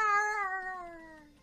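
A single long cat meow, close and clear, its pitch sliding slowly downward as it fades over about a second and a half, with no talking.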